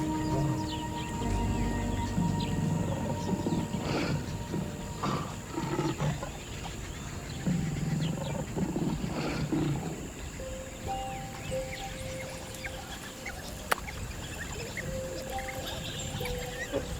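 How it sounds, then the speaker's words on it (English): Deep lion roars sound in a series of low grunting calls, moderately distant, against a background of insects and occasional birds. "As the lion's roar fades into the distance"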